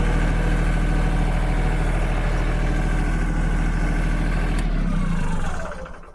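A farm tractor's engine idles steadily with a low, even rumble for several seconds, close by, then cuts off and winds down at the end.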